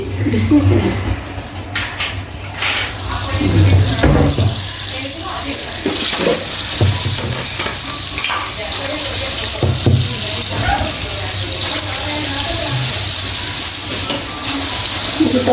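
Steady splashing water runs throughout as people talk nearby while dahi vada is made, with occasional clinks over the continuous wash.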